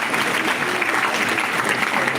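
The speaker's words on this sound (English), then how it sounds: "Please, can you clap for me?" A crowd at a university gathering claps loudly and continuously, a dense, even wash of applause close by with no speech over it.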